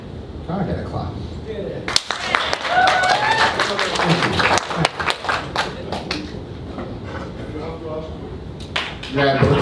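Scattered clapping from part of the crowd at a fight press conference and weigh-in in Dubai, sharp uneven claps mixed with talking and room noise.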